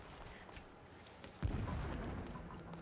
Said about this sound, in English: I'm surprised they'd hear an alarm with all those explosions